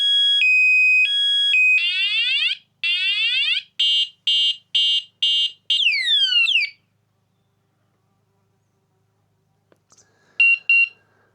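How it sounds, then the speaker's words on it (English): A cheap motorbike displacement-sensor anti-theft alarm sounds loud and close: steady electronic tones, then a run of rapid pulsed beeps and rising warbling sweeps. It cuts to silence, followed by a few brief chirps near the end. "then the alarm goes off"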